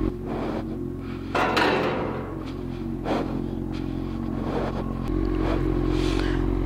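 A 2011 Honda CB1000 motorcycle idles close by with a steady low engine rumble as it arrives home, overlaid with intermittent clanks and knocks.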